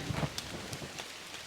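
Rain pattering steadily on a woodland floor during a mushroom foraging outing, a soft continuous wash of drops with no voices.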